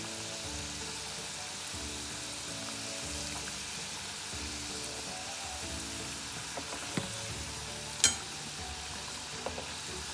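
Samosas submerged in plenty of hot oil deep-fry with a steady, dense sizzling crackle throughout, close and even, with a few brief clinks near the end and no talking.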